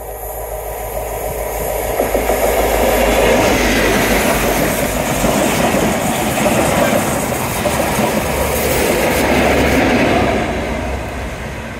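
A train rumbles past close by on the seawall at Teignmouth, building to a loud roaring clatter of wheels on track before fading slightly as it moves away.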